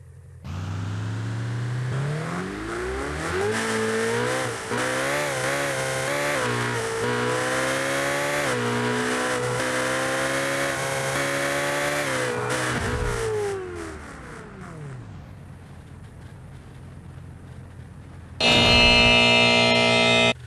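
Ferrari supercar engine in a video game crash test, a sustained rising and falling rev lasting about fourteen seconds, then fading, followed by a short loud burst near the end.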